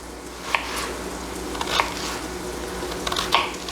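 Bacon and onion fry in a pan with a constant crackling sizzle, close up, broken by a few sharp scraping stirs of a utensil against the pan; no one speaks.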